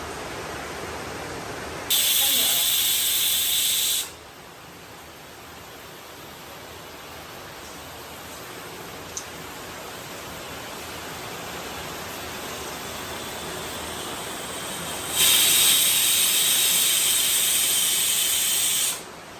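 Two loud bursts of pressure cooker whistle steam hissing, each lasting a couple of seconds, separated by a long stretch of quieter steady background noise.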